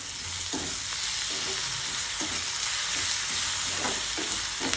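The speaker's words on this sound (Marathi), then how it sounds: "कांदा लालसर होईपर्यंत परतायचा" Loud, constant sizzling of onion sautéing in a pan with green chilli, with rhythmic scraping strokes of a spatula stirring every half second or so.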